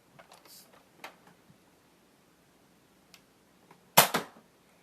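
A Nerf gun firing foam darts: a few faint clicks and taps, then one sharp, close snap with a quick second thwack near the end, otherwise quiet.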